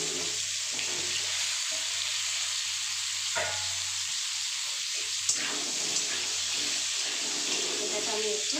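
Diced potato and pumpkin sizzle steadily in hot oil in a pan with whole spices such as cumin, a constant close frying hiss broken by a few stirring clinks and scrapes.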